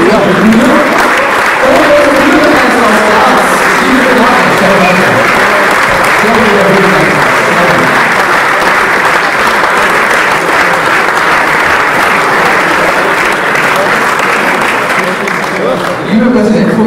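Sustained, dense applause fills a large hall at an ÖVP campaign rally, steady and loud for about seventeen seconds with no pause.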